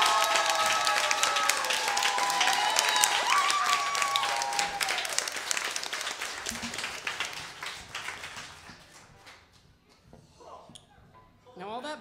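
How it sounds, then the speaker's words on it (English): Audience applause fills a benefit concert hall with dense, loud clapping for about eight seconds, then thins and fades to scattered claps and quiet. "give him a round, another round of applause."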